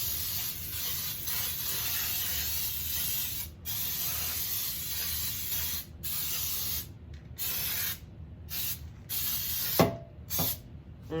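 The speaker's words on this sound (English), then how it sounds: "I'm going to spray this blunt pan" Cooking spray hisses onto a bundt cake pan in long, close, steady bursts broken by short pauses, with a few faint clinks near the end.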